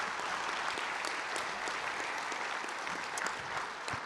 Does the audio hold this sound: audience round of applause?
yes